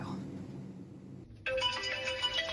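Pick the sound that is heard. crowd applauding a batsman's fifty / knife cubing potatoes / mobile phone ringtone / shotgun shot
mobile phone ringtone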